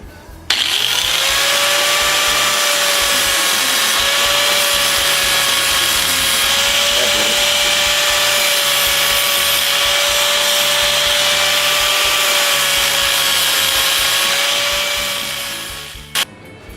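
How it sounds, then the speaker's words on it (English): A Dremel rotary tool fitted with a wire wheel strips rust from small motorcycle parts for a GS550 cafe racer, a steady loud high-pitched whine that spins up, holds for about fifteen seconds, then winds down, close and alone. "we'll get the Dremel and the wire wheel, and you know, just getting rid of rust with any tool we got at our disposal"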